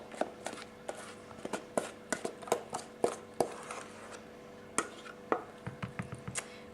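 Banana cake batter spooned into a cake tin, a series of sharp metallic taps and scrapes of a spoon against the tin with soft wet plops, irregular and close.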